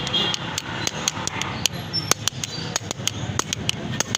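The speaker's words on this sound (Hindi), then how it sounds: "इसको हल्का हल्का किसी भी चीज़ से मैं हिट करूँगा" A Honda CG125 magnet seal is tapped into place with light hammer blows: a steady run of sharp, close metallic taps, evenly spaced, over a faint background hum.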